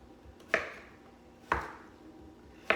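Three sharp knife chops on a cutting board, spaced about a second apart, cutting vegetables into quarter-inch chunks; each hit is crisp and close with a short decay, heard alone without talk.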